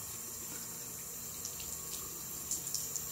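Tap water runs steadily into a sink while a man wets his hair and face before shaving, a soft continuous splashing hiss with a few small drips and splashes toward the end.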